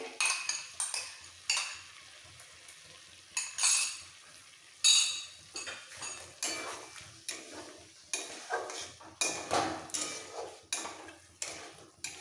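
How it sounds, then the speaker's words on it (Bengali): Potatoes sautéed with whisked sour yogurt in a pan for a vegetarian aloo dum with spinach, heard as repeated metal spoon scrapes and clinks against the pan in irregular bursts, close and fairly quiet, with a faint sizzle between strokes. "আবারও 2 মিনিট একটু কষিয়ে নেবো দইয়ের সাথে"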